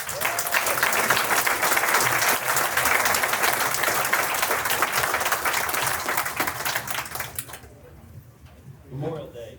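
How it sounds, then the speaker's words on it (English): An audience at a Memorial Day military service breakfast applauds a high school choir, dense, steady clapping from a large crowd filling most of the clip before it dies away into room noise. "Please join me in another round of applause."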